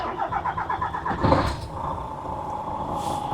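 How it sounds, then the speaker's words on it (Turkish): A DAF XF 530 truck's MX-13 inline six-cylinder engine runs nearby, a rough rumbling idle with a brief louder surge before settling back to a steady throb. "Arkadaşlar duyduğunuz bu ses MX-13'e ait."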